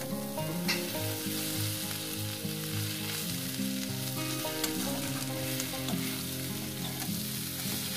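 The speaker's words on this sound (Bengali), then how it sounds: "2-3 মিনিট এটাকে ভাজবো" Onions frying in a pan with fish: a loud, continuous oily sizzle with stirring scrapes, under background music.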